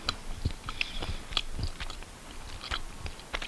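Close chewing and crunching of Lindt dark chocolate, with irregular bites and mastication clicks repeating over a few seconds in a quiet room, with no talking.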